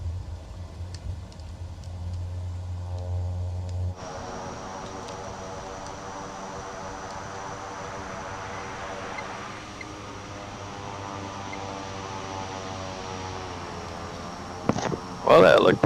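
A Cessna 408 SkyCourier rolls down the runway after landing in a flight simulator, a steady droning engine hum with tonal whine that eases slightly over time, with a voice talking over it.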